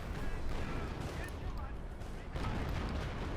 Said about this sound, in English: More artillery fire there around the positions of the flaks